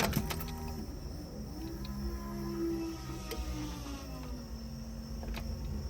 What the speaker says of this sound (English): Fuel pump prime though.